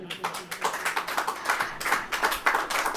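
A church congregation claps along during a Hindi sermon, quick uneven hand claps in a steady rhythmic pattern, moderately close and filling the room for a few seconds.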